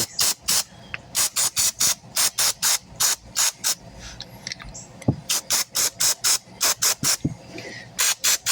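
Rapid bursts of aerosol spray hiss in short repeated pulses, close and loud, with brief pauses and a few metallic clicks between them.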